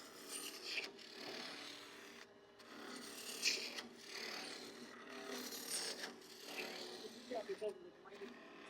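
A lathe gouge rasps and scrapes along wood as a classical vessel is turned with the grain, a continuous rough cutting noise with uneven surges and short pauses, heard close and fairly faint.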